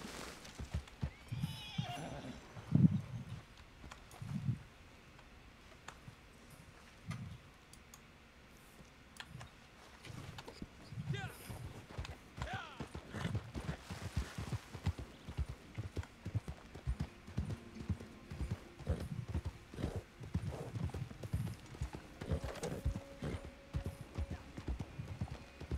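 A horse in the game Red Dead Online whinnies early on, then its hooves keep clip-clopping in a busy, irregular rhythm for a long stretch, mixed with small clicks and ticks, close and moderately loud.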